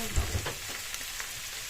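Sliced zucchini sizzles softly as it hits a pan already cooking with chicken, a faint hissing fry with a couple of low clunks at the start.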